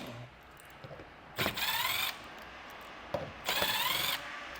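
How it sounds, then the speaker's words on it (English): A power drill backs out T30 Torx screws beneath the front of a 2024 Ford Escape, in two short whirring bursts separated by a quiet pause, close and fairly loud. "on each side, we're going to have 5 T30 Torx bit screws. Pull all these out."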